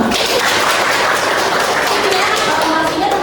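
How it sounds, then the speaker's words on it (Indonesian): Students in a health-sciences class clap together in dense, steady applause for a few seconds. "Oke, tepuk tangan dulu dong."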